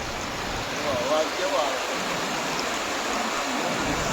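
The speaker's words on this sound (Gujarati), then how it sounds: "પાણી પડે છે ને ભાઈ તળાવનું" Water overflows from the village lake at Ramdhari in Sihor taluka, a steady broadband rush that holds even throughout, with someone talking over it.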